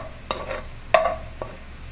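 Onions fry in a pan over low heat for pulao, a low sizzle broken by three distinct scrapes of stirring, close and fairly loud, with no speech.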